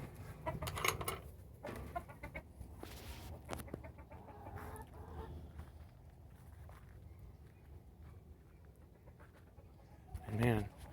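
Six backyard chickens cluck softly in a garden, scattered short calls with a louder squawk near the end, close but faint, alongside footsteps and rustling.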